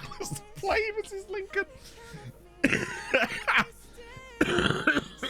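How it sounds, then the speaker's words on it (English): Several bursts of coughing and throat clearing from a man, close and loud, breaking up stretches of his own talking and laughter. "I will cough up my entire insides."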